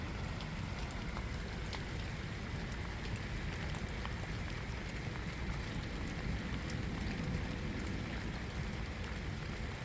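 Rain falls on a wet morning, a soft, dense, continuous patter that holds evenly throughout with no voices. It is fairly quiet and spread out, like drops striking surfaces close by.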